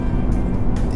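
A 2014 BMW 435i xDrive engine revs hard near 6,000 RPM, a loud steady drone with road noise, held constant through the short moment.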